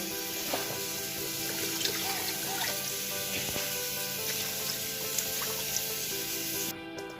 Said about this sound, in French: je vais rajouter à peu près 4 gros bols d'eau